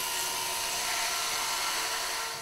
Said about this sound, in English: it was a very long drill bit, it's a 2 metre drill bit